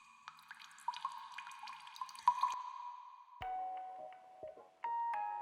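Water drips into hundreds of buckets in a neighbourhood, making irregular hollow plinks and pitched drops that ring and echo, some quick in succession, others spaced apart, alone and fairly quiet.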